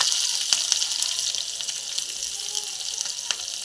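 Dry red chillies sizzle in hot oil in a pan as chopped onion is about to go in, giving a steady, even hiss with a few sharp crackles and pops spread through it.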